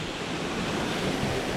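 River water flows in a steady, full-bodied rush with a wind-like hiss on a waterfall trek in Vietnam, loud and unbroken throughout, with no talking.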